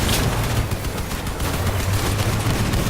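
Vehicle-mounted weapons firing in the combat game Crossout, a continuous rapid fusillade of gunshots, steady and loud for nearly three seconds with no voices.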